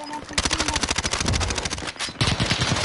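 Rapid automatic gunfire rattles in bursts during a Warzone Zombies match, loud and close, with a brief pause near the end before firing resumes.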